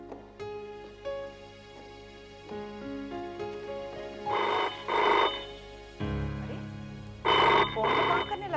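A telephone rings indoors in repeated bursts, its electronic bell tones coming in regular pairs with short pauses between them over a low tonal background.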